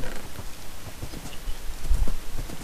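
Horse hooves clip-clop at a walking pace in a survival video game, a steady soft stepping rhythm under ambient game noise, with no voices.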